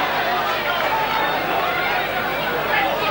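A Featherstone rugby league crowd at a 1986 match against St Helens keeps up a steady, dense roar and chatter throughout, with no single voice standing out.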